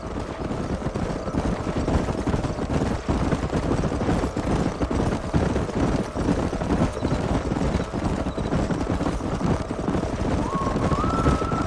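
Horses gallop in Red Dead Redemption, a dense steady rumble of hooves with a continuous loud wash of game sound, no breaks throughout.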